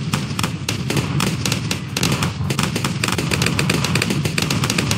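Rocket launcher towers fire in the tower defense game Bloons TD6, a rapid, steady barrage of sharp popping explosions and thumps that overlap densely throughout, loud and close with no voice over them.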